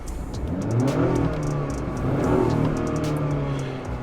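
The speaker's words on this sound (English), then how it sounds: "Let me accelerate and show you what's going on with the turbo." A 2020 Acura RDX A-Spec turbo accelerating in Sport Plus, heard from inside the cabin as a rising engine drone that climbs through two gear pulls, with faint clicks over a steady hum.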